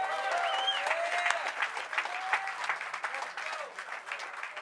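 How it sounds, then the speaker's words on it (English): Applause from the crowd at Ice-T's Hollywood Walk of Fame star ceremony, a steady outdoor wash of clapping with faint cheering tones mixed in, sustained throughout at moderate level. "I think that deserves a round of applause."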